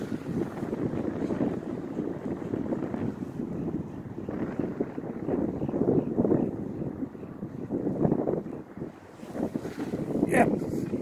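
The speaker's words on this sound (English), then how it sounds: "Blowing snow." Wind blows snow around in Vail, Colorado, roaring steadily and loudly across the microphone in rough, continuous gusts for the whole stretch.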